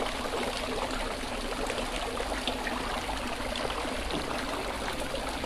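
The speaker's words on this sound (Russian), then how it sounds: "он под душем, на него он капает сверху" Water dripping from an outdoor shower onto birds at Berdyansk, heard as a continuous splashing trickle with a steady wash of noise, close and even in level, with no talking.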